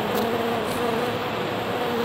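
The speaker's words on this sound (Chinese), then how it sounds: "好是好啦，但是蚊子很小哎。" Continuous insect-like buzz for mosquitoes, steady and fairly loud throughout, with a persistent tone and no talking.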